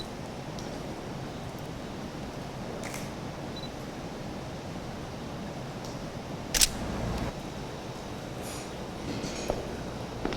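Against a steady background hiss, a single sharp camera shutter click sounds midway, followed by a few fainter clicks.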